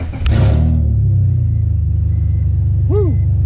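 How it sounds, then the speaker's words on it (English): A BMW E46 engine, naturally aspirated and running open headers, fires up for its first start with a loud burst, then settles into a steady, throaty idle rumble close by; a brief faint chirp rises near the end. "I'm gonna try to start it up, first start, NA with open headers."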